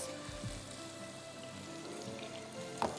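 Meatballs and onions browning in a pan give a steady, even sizzle like light rain, close and moderately quiet, with a brief clink near the end.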